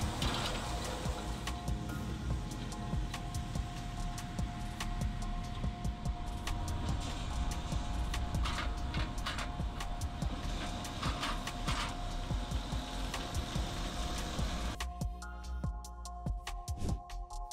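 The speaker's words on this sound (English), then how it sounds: "A leaf pruner will help your vineyard or orchard. It can adjust the angle, distance, and size to be able to cut leaves to your liking." A leaf pruner machine cuts leaves in a vineyard or orchard with a loud, steady mechanical whir and rattling churn close by. The noise runs continuously, then drops away sharply near the end.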